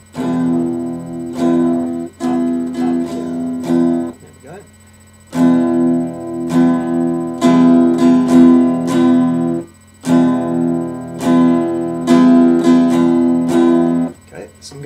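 Acoustic guitar strumming chords in a steady down-and-up rhythm, played in several bursts with short pauses between, close and clear.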